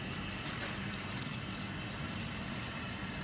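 Tap water runs steadily into a plastic fish bag, a soft continuous rush and hiss with faint bubbling that stays even and quiet from start to finish, with no talking.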